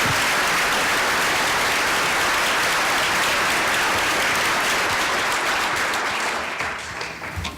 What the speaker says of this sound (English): let's give one more round of applause to Dr.